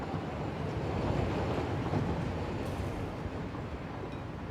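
A train in the factory-building game Satisfactory rolls along its rails, a steady broadband rumble with continuous clattering noise that holds at an even level throughout, with no voices.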